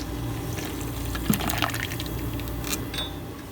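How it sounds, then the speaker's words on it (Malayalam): Water poured into a freshly ground spice mix for a cucumber juice, a steady close liquid pour and fill with light splashing throughout, no talk. "ഇനി നമുക്ക് ഇതിലേക്ക് ആവശ്യത്തിന് വെള്ളം ഒഴിച്ചു കൊടുക്കുക."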